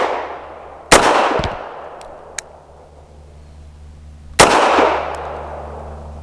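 Two sharp, loud gunshots from a Bersa TPR 380 pistol crack a few seconds apart at close range, each trailing off into an echoing decay over a low background hum.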